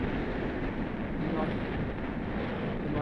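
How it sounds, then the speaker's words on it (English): Steady wind buffets the microphone while riding a Halfords Carrera e-bike outdoors, a continuous broadband rush with no breaks, loud and close. "there's quite a wind actually"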